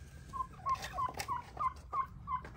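Turkeys on a homestead gobble in a quick run of about seven rapid, evenly spaced calls, moderately close over low background rumble, with no talking.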